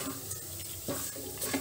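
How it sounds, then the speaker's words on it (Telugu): Masala and rasam powder roast briefly in a pan for an Andhra-style pepper rasam, with faint sizzling and a few soft, close stirring scrapes. "పెట్టుకున్న మసాలాను కూడా ఇందులో వేసి రసం పౌడర్ని ఒకసారి వేయించుకుందాము"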